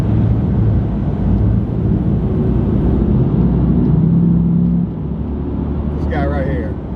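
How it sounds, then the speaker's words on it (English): A pickup truck's engine rumbles loudly close by, holding a low, throaty drone that eases off near the end, with voices talking over it. "I was not trying to make my truck sound like it was bad"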